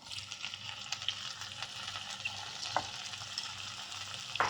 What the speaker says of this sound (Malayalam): നാരങ്ങ ഒന്ന് നന്നായി വെന്ത് വരുന്നവരെ ഇങ്ങനെ ഇളക്കി കൊടുക്കുക.